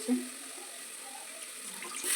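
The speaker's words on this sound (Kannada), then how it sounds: "ಎಲ್ಲ ಎಣ್ಣೆ ಮೇಲೆ ನಾನು ನೀರು ಹಾಕಿದ್ದೀನಿ" Water is poured over hot oil and spices in a cooking pot, a short splash at the start easing into a soft, continuous watery hiss, close and moderately quiet.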